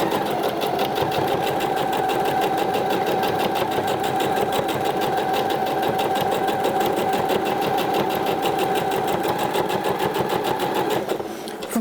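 A sewing machine topstitches a sweater neckband in a steady, fast, continuous mechanical chatter running for several seconds before slowing at the end, close and alone.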